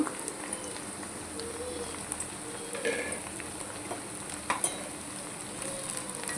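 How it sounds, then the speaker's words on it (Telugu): Taro pieces stirred in a pan with turmeric and salt, a steady scraping and stirring under a faint sizzle, close and continuous with a few louder knocks of the spoon. "కలపెట్టేసుకున్నాం ఇలా మంచి కలపెట్టేసుకుంటున్నాము"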